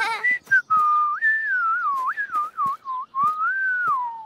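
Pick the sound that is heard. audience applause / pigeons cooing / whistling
whistling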